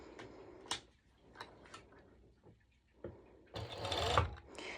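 Serger stitching the binding band on a sporty mesh top, heard as a few short bursts early on and then a longer, louder run of machine whirring near the end, with quieter clicks between.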